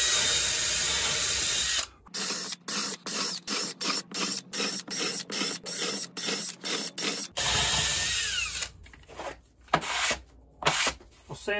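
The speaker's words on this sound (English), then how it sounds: "I'm using a 1/4-inch bit with a depth stop on it." Power drill boring holes in a mahogany bookcase board with a 1/4-inch bit and depth stop, heard as a run of short rhythmic bursts between longer steady whirring, loud and close, with no voices.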